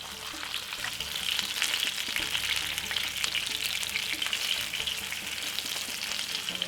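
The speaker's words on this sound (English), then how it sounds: "green pepper, yellow pepper, spring onion. Give it a time. All of these veg, gonna fry them off." Green and yellow peppers with spring onion fry in a pan, giving a steady, close crackling sizzle with light stirring and no voices.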